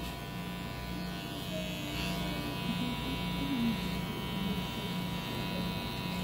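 An electric hair clipper trims a man's hair during a haircut, with a steady close buzzing drone running throughout without pause.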